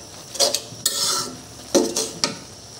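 Jute greens are stirred in a pan: a spatula scrapes and clinks against the metal in a few quick strokes over a faint background sizzle.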